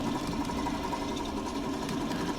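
Tractor engine straining under a load, a steady droning hum with a fast mechanical chatter running throughout, even and close.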